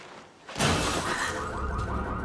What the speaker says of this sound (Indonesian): Mary mendengar suara kaca pecah disusul dengan bunyi alarm mobilnya.